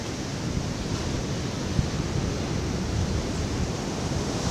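Ocean surf on the dark-sand beach at Baler in the Philippines, a continuous broad roar of strong waves, loud and steady with no voices.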